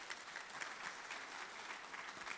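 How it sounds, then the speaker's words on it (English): Audience applause at a business summit, a steady, even wash of clapping from a crowd that holds at a moderate level throughout with no voices on top. "let the applause keep coming while he goes back to his seat"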